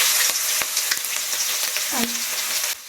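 Ginger garlic paste sizzling in hot oil in a pan for chicken curry, a steady close broadband fry with scattered pops and crackles and a short clink of a utensil near the end, no voices.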